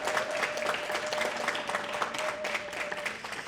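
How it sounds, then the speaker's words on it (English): An audience at a gala applauds with even, sustained clapping that lasts the whole short stretch, with a faint steady tone underneath. "Can we have a round of applause for that?"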